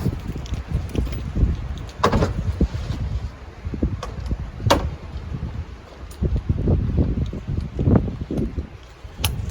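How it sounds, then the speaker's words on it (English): Gusty wind buffets close to the microphone in low rumbling bursts, with occasional sharp clicks and knocks. "It's a little windy today."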